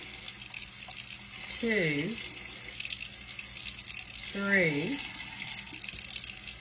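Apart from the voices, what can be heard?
tap water spooned into frothy beaten eggs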